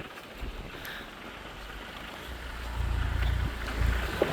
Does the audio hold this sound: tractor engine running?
yes